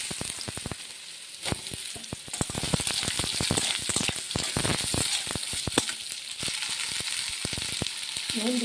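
Potatoes fry in hot oil already tempered with bay leaf and whole cumin, giving a dense, even sizzle with many sharp crackles and spits, close and alone without speech.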